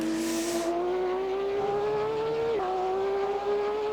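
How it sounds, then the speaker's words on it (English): Porsche engine and exhaust in the Assetto Corsa racing game, a steady loud drone whose pitch climbs gradually under acceleration, dips with a brief shift near the end, then keeps pulling, with no talk over it. "the sound of the Porsche in AC at the moment is just glorious"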